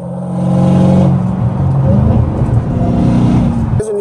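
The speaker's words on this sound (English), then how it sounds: "Dude, this car is too loud." A loud car engine drones and revs while driving, heard up close from inside with a steady, throaty hum that swells and dips.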